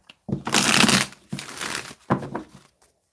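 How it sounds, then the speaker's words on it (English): Tarot cards are shuffled in several quick riffling bursts, crisp and close, with short pauses between them. "Let's get one more shuffle."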